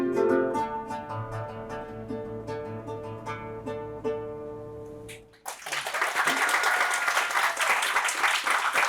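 Loud, sustained applause from a lecture audience bursts in and fills the room after a sung protest song with instrumental accompaniment ends abruptly.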